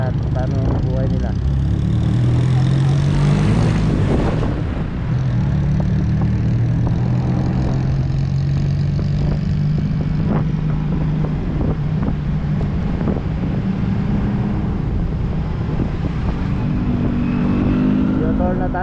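Motorcycle engine droning steadily while riding, with heavy wind buffeting the microphone throughout.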